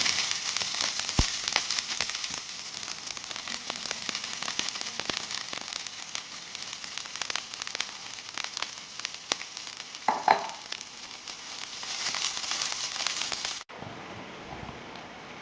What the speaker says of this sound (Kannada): ಈ ಕಾದಿರೋ ಫ್ರೈಯಿಂಗ್ ಪ್ಯಾನಲ್ಲೇ ಈ ಕಟ್ ಮಾಡಿರೋ ಕ್ಯಾಪ್ಸಿಕಮ್ನ ಸ್ವಲ್ಪ ಫ್ರೈ ಮಾಡಬೇಕು